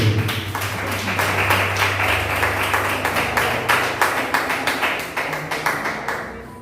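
Congregation clapping hands in steady rhythm inside a church during worship, many palms striking together continuously, close and lively, with no talk.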